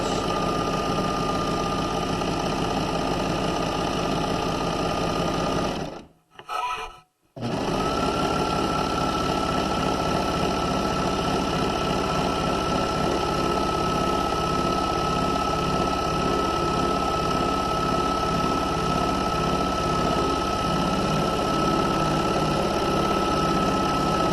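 A serger stitches a pajama pant leg seam, running in a steady fast mechanical hum close up, briefly stopping for a moment before resuming and continuing evenly.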